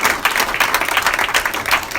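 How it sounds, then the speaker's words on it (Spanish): Church congregation applauding together during a pastor appreciation service, dense steady clapping that comes in slight surges, close and loud with no talk over it. "Denle un fuerte aplauso a nuestro Dios."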